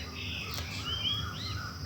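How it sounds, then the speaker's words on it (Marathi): Asian koel singing in the morning after light rain, a few thin rising whistled calls drifting over a quiet outdoor background, soft and fairly distant with faint insect or bird chatter. "तर इथं कोकिळ सगळ्यांना गाऊन गाऊन उठवीत आहे"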